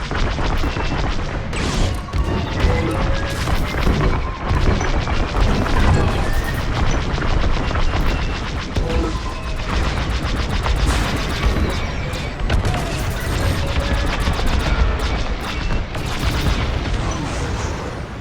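Starfighter blaster fire and explosions from the Star Wars Squadrons video game hit in a dense, loud barrage of rapid shots, crashes and booms, continuous and close, with occasional talk mixed in underneath.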